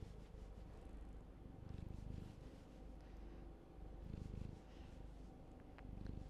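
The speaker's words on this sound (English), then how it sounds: "You came up to me and is purring." A cat purrs up close, a steady low rumble that swells and fades with each breath, continuous and alone throughout.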